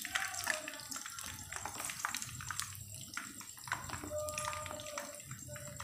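Battered spiced potato balls (aloo bonda) frying in hot oil, a steady crackling sizzle with bubbling texture running continuously throughout, fairly close and moderately loud, with no talking.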